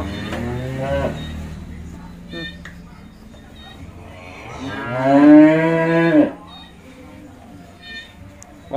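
Cattle on a Vietnamese cattle farm moo twice, a short low call at the start and a longer, louder, rising moo later, over faint background farm noise.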